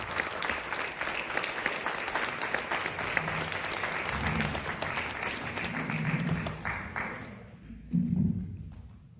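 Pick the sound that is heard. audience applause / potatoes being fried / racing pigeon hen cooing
audience applause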